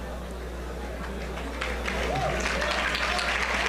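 An English-speaking audience at a gathering breaks into applause, with steady crowd clapping over a low electrical hum that grows a little louder midway, with voices mixed in.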